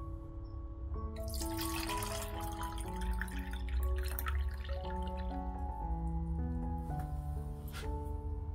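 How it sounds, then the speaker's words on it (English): Water splashes and pours for a few seconds over steady background music, then fades to light trickles. "Now you need to pour water and mix thoroughly."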